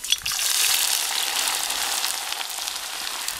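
Onions frying in a pan for eggplant caviar, a close, steady, loud sizzle that holds without a break, with no talk over it.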